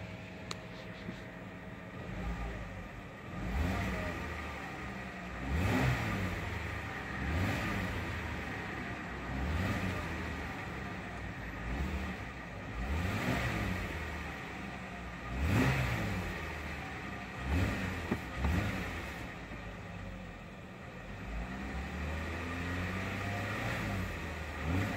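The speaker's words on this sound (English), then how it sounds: "I'll go ahead and give it some revs." The engine of a 2015 Jeep Wrangler Unlimited Sport is revved repeatedly from idle, rising and falling in a series of surging blips at a moderate level over a steady running rumble.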